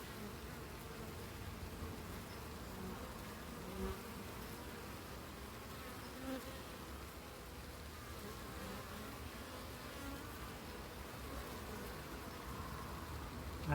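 Honeybees at a hive entrance fitted with an entrance reducer make a steady, dense buzz of many insects that holds at an even, quiet level throughout.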